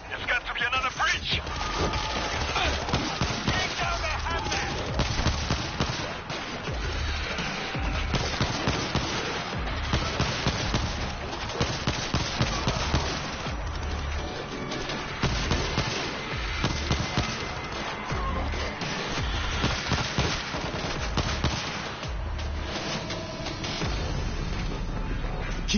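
Gunfire in the video game World War Z crackles in rapid, uneven bursts and volleys, with sharp shots repeating throughout while voices talk over the combat.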